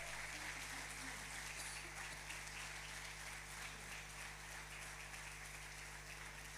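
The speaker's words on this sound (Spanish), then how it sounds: "Damos un aplauso fuerte al Señor en esta mañana." Congregation applauding during a Spanish-language Sunday church service, a faint, steady wash of clapping spread evenly across the room over a constant low hum, with no voices standing out.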